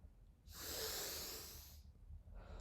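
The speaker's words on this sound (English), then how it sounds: "Breathing in, and then release, not all the way." A single long, forceful exhalation during a Tummo breathing exercise, a broad breathy rush lasting over a second, fairly close and alone, fading into quiet with a softer breath near the end.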